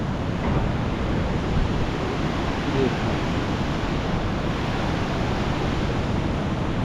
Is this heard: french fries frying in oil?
no